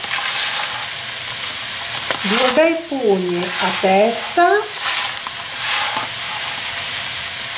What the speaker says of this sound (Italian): Facciamo tostare un pochino il riso.